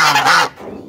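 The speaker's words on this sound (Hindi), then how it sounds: "ये हमारी डक्स हैं" A single loud, nasal quack from domestic ducks kept in a village yard, lasting about half a second before fading to quiet ambience.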